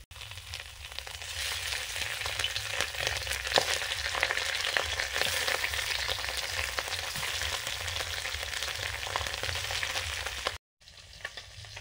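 Tilapia fish frying in mustard oil in a home kitchen pan give a steady, close, continuous sizzle and crackle, with a brief dropout near the end and no talking.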